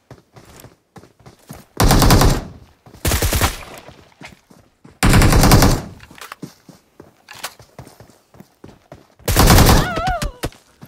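Several loud bursts of automatic AKM rifle fire in the PUBG Mobile video game, separated by quieter gaps with light clicks and footsteps.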